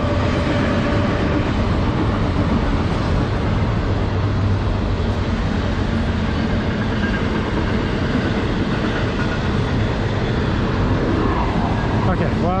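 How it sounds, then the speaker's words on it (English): A train rumbles past close by at Stones River National Battlefield in Murfreesboro, Tennessee, a loud, continuous roar of wheels and cars with a faint squeal near the end. "And there goes the train."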